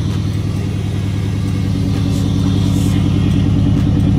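A 1996 Chevrolet Impala SS with an LT1 engine idles steadily close by, a loud, even low rumble with a regular pulsing beat throughout and no talk over it.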